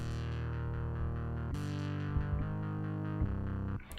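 A sustained electronic tone from a Korg Monologue synthesizer, a sawtooth LFO modulating the filter in a steady pulsing sweep that rises and falls rhythmically, shifting pitch a couple of times, effects off; no voices.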